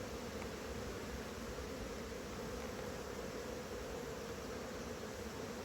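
Honeybees hum around a nuc hive, a faint, continuous buzzing drone with no voices and no breaks.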